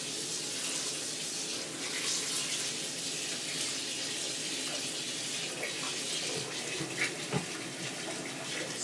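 Cool tap water runs steadily from a faucet into a sink as rice for a Louisiana Cajun jambalaya is rinsed, a continuous close splashing hiss with small clinks near the end, and no talking.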